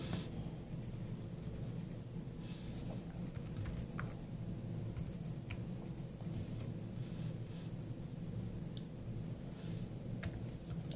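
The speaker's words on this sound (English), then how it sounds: "You're going to type in Classcraft." Faint typing on a computer keyboard, scattered light key clicks over a steady low room hum, quiet and continuous with no talking.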